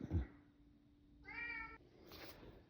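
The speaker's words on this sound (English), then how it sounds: "And that is my little cat, Boo." A small pet cat, wanting to go outside, gives one clear, drawn-out meow close by in a quiet kitchen, with faint household handling noise before and after.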